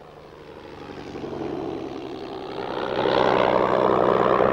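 Slow propeller planes operate from an aircraft carrier, their engine drone steady and droning, then growing louder and fuller toward the end with no talking.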